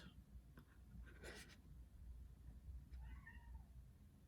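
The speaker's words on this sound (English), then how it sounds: "I'm sorry if you hear the cat meowing in the background" A faint cat meow drifts in from a distance over low background noise, alongside soft scratching sounds.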